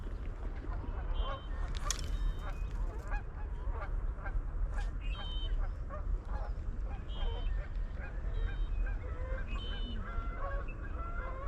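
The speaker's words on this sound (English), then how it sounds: "there goes the geese" Geese honk repeatedly at a fishing pond, calls scattered and moderately distant over a faint outdoor background, with a person's voice now and then.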